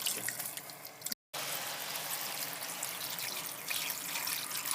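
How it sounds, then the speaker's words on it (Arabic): Water pours steadily into a cooking pot for spinach soup, a continuous close splashing stream with one brief break partway through. "نضيف القدر الكافي ديال الماء."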